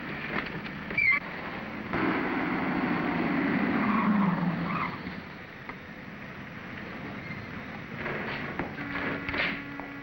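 A car engine surges and tires squeal in an old 1941 thriller chase, building to a loud, sustained roar before fading, then followed by quieter street noise and short bursts.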